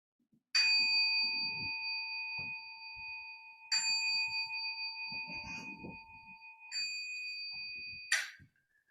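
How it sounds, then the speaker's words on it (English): Zen temple bell struck four times at the close of a Sunday service, each strike ringing out with a long, clear sustained tone that decays slowly, with quiet rustling and movement from the room beneath it. "I'll ring the bell since I have it"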